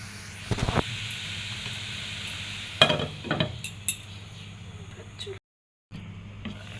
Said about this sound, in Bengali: এটা খুব সুন্দর মতো ফুট ফুটে গেছে